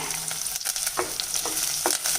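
Hot oil sizzles and crackles steadily as chopped onion cooks with curry leaves, with scraping stirs of a utensil breaking through every half second or so.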